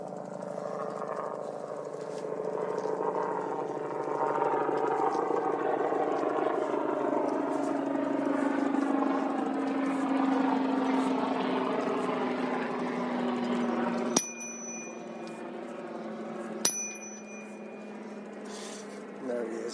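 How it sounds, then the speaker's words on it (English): A Coast Guard helicopter passes overhead with a steady rotor and engine drone that swells and slowly fades, ending in a few sharp nearby clicks. "That's a Coast Guard chopper."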